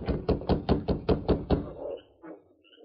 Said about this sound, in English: and rapped on the door.